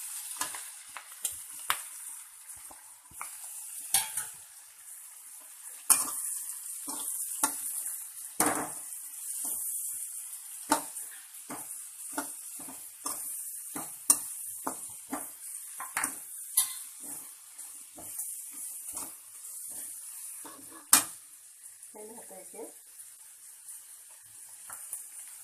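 Two sliced onions frying in a pan, a soft continuous sizzle punctuated by many sharp scraping and clinking stirring strokes of a utensil against the pan, moderately close.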